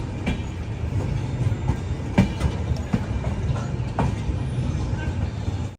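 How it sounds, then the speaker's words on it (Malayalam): The Uday double-decker train from Bangalore pulls into Coimbatore station with a steady low rumble and scattered wheel clacks and knocks, close and continuous. "ബാംഗ്ലൂരിൽ നിന്ന് വന്ന ട്രെയിൻ ഇതാ."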